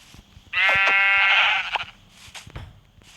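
A sheep in the video game Minecraft gives a single loud, close bleat lasting about a second, followed by faint clicks and soft game sounds.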